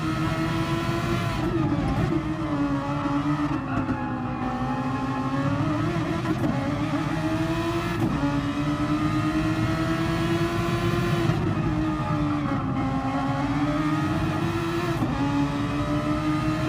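A Super Formula race car in a racing video game at Barcelona accelerates hard, its engine a loud, continuous high-pitched whine that rises through the gears with short dips at each shift.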